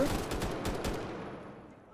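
An RPK-74 light machine gun fires in the video game Deadline, a rapid burst of rattling shots that fades into a decaying echo over two seconds, with voices talking underneath.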